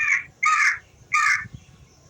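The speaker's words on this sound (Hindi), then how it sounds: "कौवा।" A crow caws three times in quick succession, loud, harsh and close, with short pauses between calls and no other voices.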